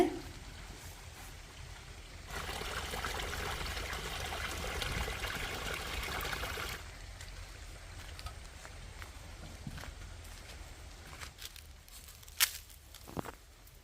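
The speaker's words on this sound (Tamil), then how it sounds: "கீழே வயல் தண்ணி பாயுது" Water flows into a village paddy field below, a steady broadband rushing that holds loud for several seconds, then eases to a quieter trickle with scattered drips and small splashes toward the end.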